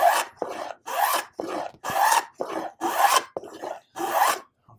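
A hand plane shaves a wooden edge into a roundover with about nine rhythmic rasping strokes, each a bright scraping pass followed by a brief pause, close and clear with no talking.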